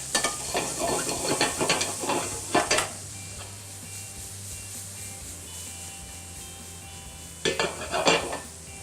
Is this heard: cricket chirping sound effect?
no